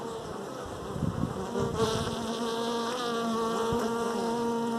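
Honeybees buzz in a dense, continuous drone at an open beehive, close and steady throughout, with a faint low hum underneath.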